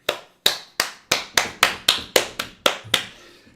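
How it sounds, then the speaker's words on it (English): Slow, sparse applause from about three pairs of hands in a tabletop role-play scene, roughly a dozen sharp, evenly spaced claps ringing out one at a time, loud and close, then fading. "just from like 3 sets of hands that start to clap in an opportunistic show of loyalty"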